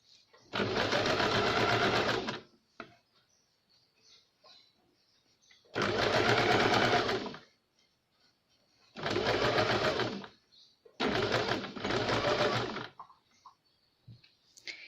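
Sewing machine stitching a princess-cut boat-neck blouse, joining canvas strip to fabric: four bursts of steady rapid stitching, each one to two seconds, separated by quiet pauses, close and clear.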